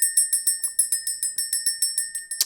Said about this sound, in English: Let's ring the bell, clear the energy, and get into the message.